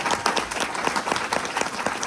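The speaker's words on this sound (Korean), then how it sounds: "박수!" An audience at a Korean-language seminar breaks into a short burst of clapping, with close, brisk applause and no voices over it.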